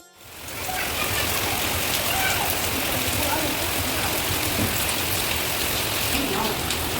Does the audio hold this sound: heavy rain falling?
yes